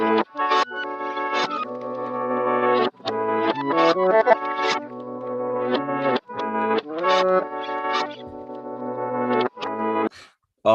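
A reversed sample plays backwards, its chords swelling and cutting off abruptly in choppy phrases, with a thick, processed tone and brief gaps between sections.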